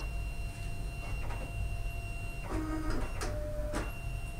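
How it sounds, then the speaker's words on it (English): Fargo DTC4000 card printer pulling in a cleaning card: steady mechanical whir with tonal motor whines, shifting rollers and a few short clicks and clunks as the card advances, moderately quiet and close. "go ahead and press clean printer. It's going to feed in the card."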